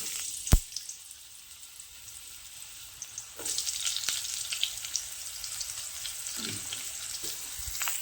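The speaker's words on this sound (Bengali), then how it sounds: "এই তেলের মধ্যে আমি আলুগুলো ভেজে নেব" Sliced potatoes frying in oil in a village kitchen, a fairly soft crackling sizzle that grows busier partway through, with a sharp knock near the start and a few light clatters.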